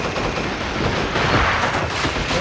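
Dense, rapid gunfire from a shotgun in the original Killzone crackles continuously in a busy combat mix, loud and close with no pauses.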